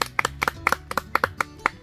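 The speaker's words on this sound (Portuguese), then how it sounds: "Aí, uma salva de palmas para ela" Rhythmic hand clapping for a gift giver, a small group keeping an even beat of about a dozen crisp claps, close and clear without talk.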